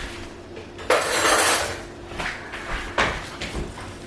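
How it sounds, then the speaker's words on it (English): A spoon clanks and scrapes against a pot as spices and sugar are mixed into a tomato and onion chutney, with a few sharp metallic knocks close up over a short stretch. "I'll give that a mix in now."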